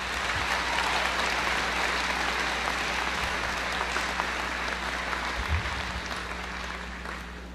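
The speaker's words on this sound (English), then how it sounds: "applause" A graduation ceremony crowd applauds steadily and loudly for several seconds, a dense wash of clapping that tapers slightly at the end, with a low electrical hum underneath.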